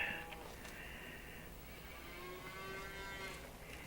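Cattle in the video game Farming Simulator 25 moo several times in a row, with long, low, drawn-out calls that overlap faintly against a quiet background.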